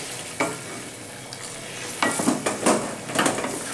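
Hot water poured into a pan of Bengali-style Bhagon fish curry with potatoes and cauliflower bubbles and sizzles nearby, with a steady bubbling hiss and a few clinks and stirring scrapes of a utensil against the pan.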